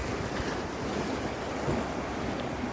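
Waves roll onto the shore at Laem Charoen beach in a constant broadband wash of surf, mixed with wind buffeting the microphone, with no speech.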